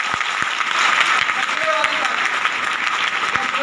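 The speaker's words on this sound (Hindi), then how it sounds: "ऐसी ताली" Dense, steady audience applause fills a business seminar hall, loud and continuous throughout, with a faint voice now and then beneath the clapping.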